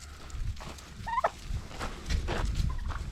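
Pet turkeys gobble in short bursts at close range while being fed on a barnyard farm, a few rattling calls scattered over quiet rustling.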